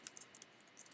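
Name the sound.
typing on a computer keyboard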